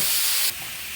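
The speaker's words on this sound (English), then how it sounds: "Now let's sear the other side." Pork chop searing in a hot pan with olive oil gives a loud, steady broadband hiss that drops abruptly to a quieter, continuing sizzle halfway through.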